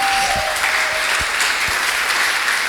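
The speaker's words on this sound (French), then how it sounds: "Si vous êtes avec moi, acclamez le Seigneur Jésus-Christ" A church congregation applauds for Jesus Christ during a French-language sermon, with steady, dense clapping throughout and a few scattered cheers in the crowd.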